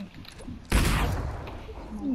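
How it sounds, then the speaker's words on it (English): A sudden burst of Fortnite gunfire breaks in with one sharp, loud shot that then decays into a rattling tail, after a moment of quieter game sound and a brief voice. "No, I'm shooting your gun."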